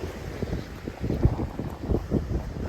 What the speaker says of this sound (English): Getting a bit windy over here.